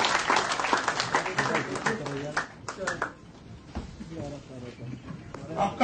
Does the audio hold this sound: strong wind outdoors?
no